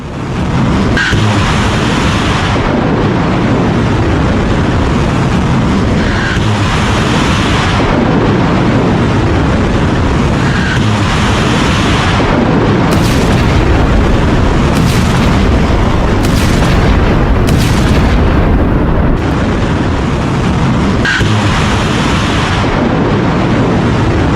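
Roaring missiles and heavy explosions during a US military operation inside Iran: continuous loud rumbling blasts and booms fill the whole stretch, with sharp cracking bursts in the middle and no voices.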